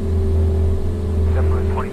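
Steady, droning engine hum of a small light aircraft in flight, a strong low throb continuing evenly throughout, heard from inside with a faint voice speaking over it.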